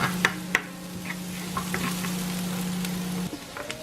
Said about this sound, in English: So I'm just sauteing this a little bit to get the flavor out.